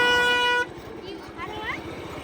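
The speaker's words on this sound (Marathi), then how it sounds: "अरे गाडीला हॉर्न सुद्धा आहे." A mini jeep's horn gives one loud, sustained toot that cuts off after half a second, followed by the small engine puttering rhythmically nearby.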